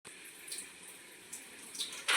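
Water heats to a boil in a covered pot on a high flame while vegetable dum fried rice is being made. A faint, steady bubbling hiss is broken by a few brief louder surges, and no one speaks.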